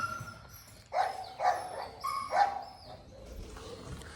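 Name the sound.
American Bully dog Gulabo barking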